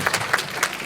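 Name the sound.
audience applause at AGM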